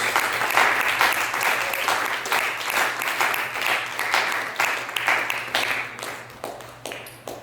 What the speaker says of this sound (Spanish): ¿Cuánto le dan ese fuerte aplauso al Señor, hermanos?